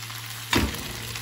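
Spices and salt dropped into a hot pan for a shrimp tagine, giving a sudden close sizzling burst that then settles into a steady low frying hiss.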